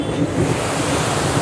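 Rushing water of the strong river current at Farakka bridge, heard from a passing train as a steady broadband roar mixed with wind noise, loud and continuous with no talk.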